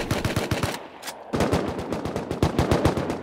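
Rapid automatic gunfire from the video game Rust comes in loud, close bursts with a brief pause partway through before the firing resumes.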